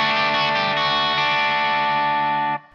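Electric guitar plays the opening measure of a song with a distorted, chorused tone, chords ringing steadily and loudly on their own before being cut off abruptly near the end.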